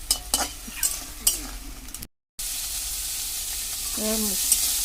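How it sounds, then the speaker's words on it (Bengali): Fried crab stirred with spices in a pan for a Bengali katla-style oil curry, giving soft scraping and sizzling that stays moderate and steady, with brief louder stirring knocks early and a short gap of silence midway. "ভাজা কাঁকড়াটাকে আমি অনেকক্ষণ বসে কষাবো"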